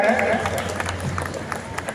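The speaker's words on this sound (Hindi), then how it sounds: "कृपया तालियों से स्वागत करें।" A crowd applauds at a block panchayat council members' swearing-in ceremony in Lailunga, Raigarh, Chhattisgarh: steady, moderately loud hall applause as a continuous wash of clapping with a low room hum beneath it.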